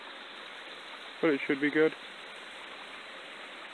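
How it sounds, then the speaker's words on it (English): A small mountain creek on a prospecting trip flows with a steady, soft broadband rush throughout, with a short spoken phrase briefly over it. "I heard the water down here, so I figured that was the creek"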